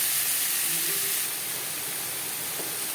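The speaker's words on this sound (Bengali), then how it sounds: "ফোড়নের সাথে চিচিঙ্গা বেশ ভালো করে মিক্স করে দেবো।" Snake gourd fries in a pan and is mixed with tempering spices, a steady close hiss of steam and sizzle that eases slightly after the first second.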